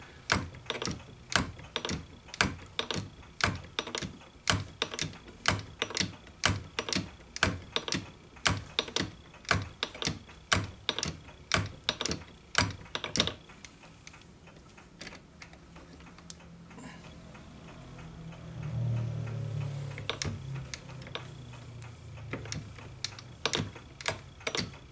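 A shop-built hand shaper takes repeated cutting strokes on a 4130 steel star wheel, producing sharp, evenly spaced scraping clicks at a steady rhythm that stop partway through, leaving a quieter low rumble.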